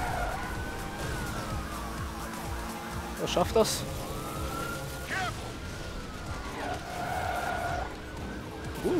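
A police car siren wails behind the player's car in the racing game Fast and Furious Showdown, rising and falling tones over engine noise, with brief skidding or crash noises and someone talking at times.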